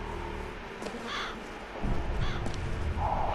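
Crows cawing in the video game BioShock Infinite, a few harsh calls breaking over a low game ambience, moderately close, with a louder rumbling bed of sound rising partway through.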